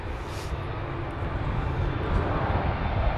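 A Boeing 787 Dreamliner at Manchester Airport gives a steady, broad jet roar that swells slightly, heard close and fairly loud with no voices.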